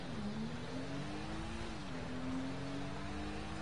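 Car engine in GTA V while driving on snow, a steady droning hum that rises and dips in pitch with throttle, constant and fairly faint with no talk.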